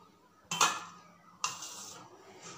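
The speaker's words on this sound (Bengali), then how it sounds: "জল দিয়ে এবার আমি একটু ঢাকা দিয়ে দেবো।" A metal lid is set down on a pot of mourola fish curry, giving two distinct clanks about a second apart followed by a faint rattle, close and clear in a quiet kitchen.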